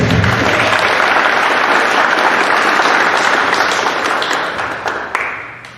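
At a community town hall on youth mental health, a crowd claps warmly for a presenter, a full even wash of applause that gradually thins toward the close.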